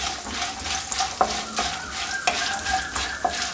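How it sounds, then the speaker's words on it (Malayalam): Cashew nuts and peanuts fry in a pan for lemon rice, with a soft steady sizzle and repeated scraping stirs of a spoon across the pan, close and fairly quiet. "അല്പം അണ്ടിപ്പരിപ്പ്, അല്പം കപ്പലണ്ടി, ഇതെല്ലാം ഒന്ന് വറുത്തെടുക്കണം."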